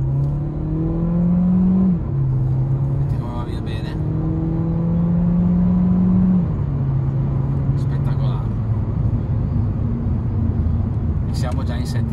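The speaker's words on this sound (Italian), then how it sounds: "Adesso andiamo a dare gas." Volkswagen Golf 1.5 TSI 150 hp with DSG gearbox on a road test, engine accelerating smoothly through quick automatic upshifts, steady cabin drone with pitch dropping at each gear change, while someone talks over it.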